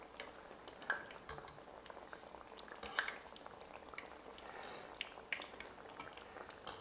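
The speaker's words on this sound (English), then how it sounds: "And they should start sizzling right away." Soft sizzling of zucchini slices frying in hot oil, with occasional light clinks of a utensil against the pan.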